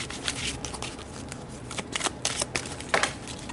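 Tarot cards are pulled and handled from a deck, with soft close shuffling and riffling rustles and a few sharper card snaps and flicks, no talking.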